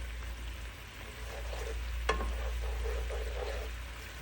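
Honey garlic sauce bubbles and cooks down in a pan with a soft, steady sizzle over a low constant hum, marked by one sharp clink partway through.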